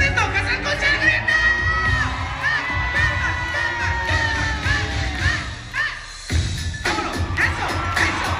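A large crowd at a live show in Mexicali shouts, whoops and cheers continuously, loud and close, with a brief dip near the end before the roar picks back up.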